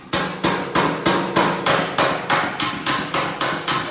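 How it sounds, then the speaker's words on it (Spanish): A small hammer strikes a dolly while panel beating a swollen, dented area of a car body. About a dozen sharp metallic blows land in a steady, even rhythm, loud and close, with no talking. "este martillo es para hacer toda esta parte hinchada"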